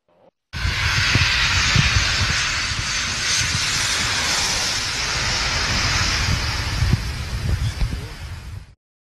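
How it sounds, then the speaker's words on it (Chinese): A passing airplane roars as a broad, steady rush of jet-engine noise that starts abruptly, holds at an even level for several seconds with a low rumble beneath, then cuts off. "这是飞机的声音。"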